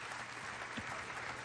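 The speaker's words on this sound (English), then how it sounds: "it's almost a sympathetic round of applause from the audience here at this particular time" Polite, sympathetic applause from a bowling audience at the AMF World Cup 2008 patters steadily from start to finish, a distant dense clapping with no cheering.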